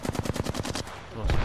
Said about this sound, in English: Oh, that was a headshot.